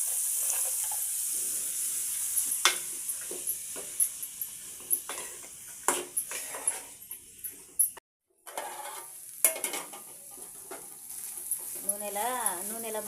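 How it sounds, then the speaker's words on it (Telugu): Peas and cabbage frying in oil in a pan give a soft sizzle with intermittent stirring scrapes and clinks, under a person talking. "బఠానీ నూనెలో మంచిగా ఫ్రై అయింది."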